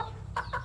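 A chicken with phlegm in its throat gives three short, raspy, snoring-like bursts in quick succession, close up over a low background hum.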